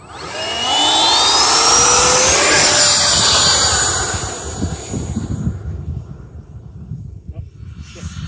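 A Freewing MiG-21 RC jet takes off from a long grass runway, its loud ducted-fan whine sweeping up and rising steadily before fading into the distance as it climbs away.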